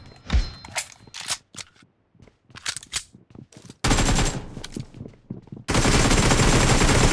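Rapid bursts of gunfire from the BGMI battle royale game, loud and close, with scattered shots giving way to sustained automatic fire that grows denser toward the end.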